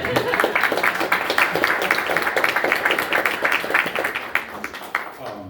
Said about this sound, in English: you don't have to clap between every poem